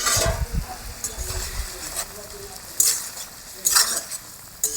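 Fish hissing and sizzling as it goes into a frying pan with reduced gravy in a home kitchen, with bright crackling bursts that rise and fall alongside stirring and utensil scrapes.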